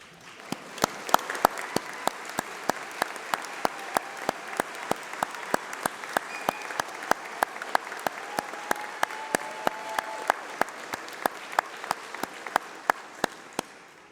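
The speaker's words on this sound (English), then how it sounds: "please stand up while we give you a round of applause" An audience at a UCLan graduation ceremony applauds course reps, a steady wash of clapping with one or two sharp, close claps standing out in a regular beat.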